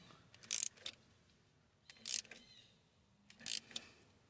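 A ratchet with a 14mm socket turns the crankshaft bolt on a 1993–97 Toyota Corolla 1.6 during timing belt work, three short bursts of rapid clicking up close, separated by quiet pauses.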